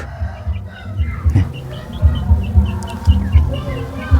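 A laying hen clucks in soft, low repeated pulses inside a farmyard coop, with brief higher chirps and fowl calls scattered over a constant background rumble.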